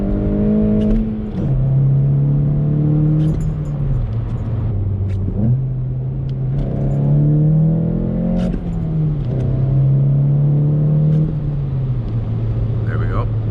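A six-speed manual Volkswagen Golf GTI with a track exhaust drives hard around a track, its loud engine droning and rising through repeated accelerations, with gear changes dipping the pitch between pulls. The engine stays steady and continuous throughout.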